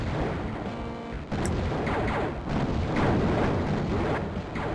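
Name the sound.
missiles firing and exploding in a video game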